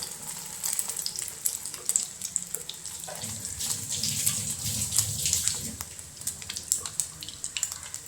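Beef cutlets frying slowly in a pan, a close, busy sizzle with crackles and spits that swells in the middle, continuous throughout with no talk.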